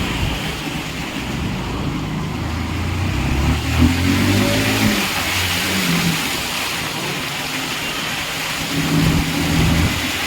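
Heavy monsoon rain pours down in Porbandar as floodwater rushes through the street, a dense steady roar with low rumbling surges and a passing engine, and no one speaking.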